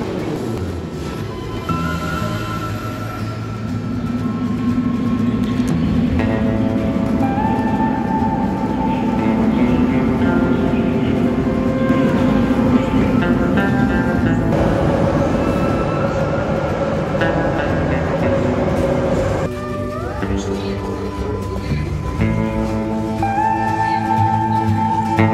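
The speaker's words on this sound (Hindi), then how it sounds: "सो अभी हम मेट्रो स्टेशन पे हैं।" A metro train at a metro station in Russia, a loud sustained rumble with rising and falling electric motor whine and rail clatter as it moves along the platform, no talk.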